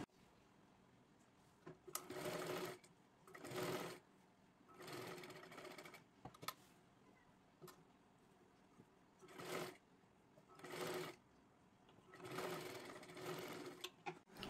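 A domestic sewing machine stitches a kurti neckline in short, separate runs of rapid whirring, each lasting a second or two, with quiet pauses and small handling clicks between bursts.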